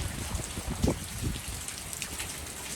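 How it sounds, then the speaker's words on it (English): Heavy rain pours down in strong wind, a dense, constant hiss of drops striking surfaces, with a few louder splashes and low gusty rumbles breaking through near the start. "Just a very intense rain and wind."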